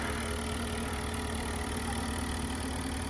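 A 2006 Porsche Cayenne Turbo S engine idles steadily with a low, even hum and faint rumble, no revving and no voices.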